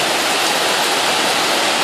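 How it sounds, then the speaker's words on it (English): Very heavy tropical rain pours onto a street in Phnom Penh as a loud, dense, unbroken hiss with no gaps, close by and with no voices. "I can't even explain how hard it's raining right now."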